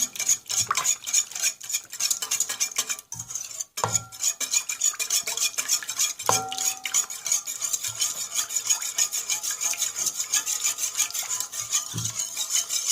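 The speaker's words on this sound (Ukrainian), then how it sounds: "Яйця з кисляком розмішуємо вінчиком." Eggs and sour milk whisked together in a bowl, a steady rapid scraping and tapping of a whisk against the bowl running throughout with brief pauses, close and fairly loud with no talking.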